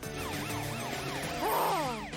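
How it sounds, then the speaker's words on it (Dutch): Cartoon fire truck siren wailing in repeated rising and falling sweeps, loud and continuous with a brief higher squeal near the end, no voices. "Mathilda's sirene zorgt ervoor dat de auto's voor haar aan de kant gaan."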